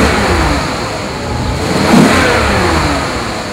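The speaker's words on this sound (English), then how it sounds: "How about I go ahead and just start it for you so you can hear just that beautiful kind of Maserati rumble." A 2002 Maserati Spider Cambiocorsa engine rumbles close by at a steady idle, then swells in one short rev near the end before settling back.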